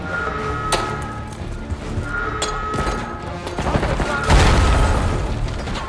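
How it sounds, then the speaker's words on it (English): Grenade blasts go off in the Call of Duty Black Ops 6 shooter, a string of sharp bangs and crashes amid gunfire, ending in a heavier, louder explosion that rumbles on for the last couple of seconds. "These goddamn grenades, bro."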